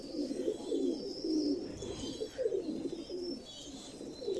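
Pigeons give soft, rolling coos in repeated phrases nearby, with faint background noise underneath.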